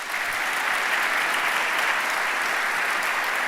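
A debate audience applauds to welcome the two debaters, dense, even clapping at a steady level throughout, with no voices standing out.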